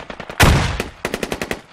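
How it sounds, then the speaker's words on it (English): Gunfire in the military shooter Squad: a loud close shot with a long ringing tail, then a quick string of sharp, evenly spaced rounds fired in succession. "I keep trying to shoot a guy through this fence and I keep blocking the fucking bullet."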